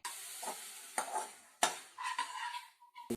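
Onions fry in a pan while a spatula stirs them, giving a soft sizzle broken by a few sharp scrapes and knocks against the metal, close by, with no one talking.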